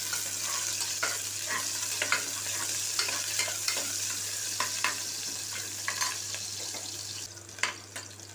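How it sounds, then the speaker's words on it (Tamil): Onions frying in a pan with crushed garlic, curry leaves and coriander give a soft, even sizzle under a low steady hum, broken by regular spoon strokes and scrapes against the pan. "இப்போ வெங்காயம் நல்லா வதங்கிருச்சு."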